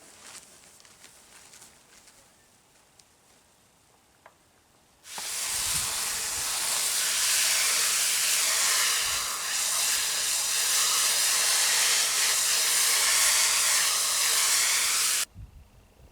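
Hung animal furs rinsed off with a spray of water before tanning, a loud broad hiss of spraying that starts abruptly after a quiet stretch, runs steadily for about ten seconds, then cuts off.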